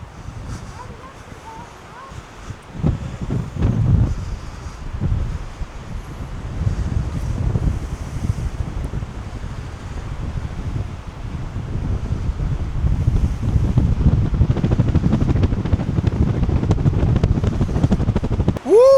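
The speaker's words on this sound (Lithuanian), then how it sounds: "Bet tai vėjelis tai toks stiprus, kad nieko nesigirdi net." Strong wind roars and buffets the microphone continuously, a loud low rumble that swells and gusts throughout, with surf faintly underneath.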